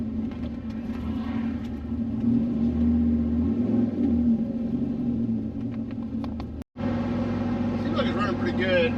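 An 800hp Chevy Sierra truck engine idles with a loud, steady low rumble up close. The sound cuts out briefly and then returns with a brighter, rougher tone.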